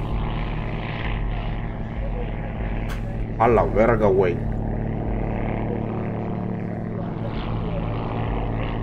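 Propeller aircraft flying an aerobatic display drone in a continuous mid-distance hum, while a voice exclaims excitedly over the engines partway through.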